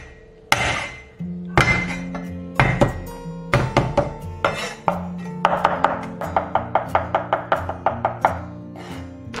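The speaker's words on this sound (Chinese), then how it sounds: "然后准备葱姜蒜全部给它拍碎切成末" A kitchen knife chops smashed scallion, ginger and garlic into mince on a board. A few heavy, spaced whacks come first, then a quick, steady run of sharp chops, close and loud, with no talking.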